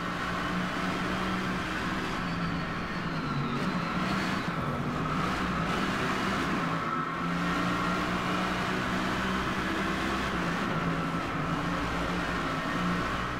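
A Mercedes-Benz AMG GT3 racing engine in the game Driveclub drones with a steady roar at an even pitch, with a faint whining tone rising briefly partway through.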